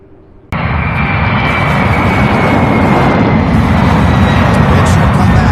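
Loud, steady roar of an aircraft engine at Louisville International Airport beside the UPS Worldport, starting abruptly and holding as a dense, broadband rumble with a faint high whine.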